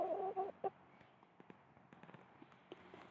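Laying hens cluck nearby outside their coop, a couple of louder calls at the start followed by scattered soft clucks and scratchy rustling.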